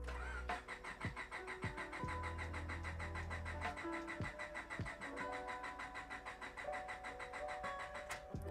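A cold car running on E85 ethanol fuel cranks repeatedly and struggles to start, the starter churning loudly and steadily with a few faint clicks over several seconds, close by and with no talk.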